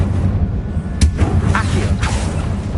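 A Confringo blasting spell in Hogwarts Legacy: a few sharp bursts land in quick succession over a dense, loud rumble, each a short bright crack followed by a dull boom.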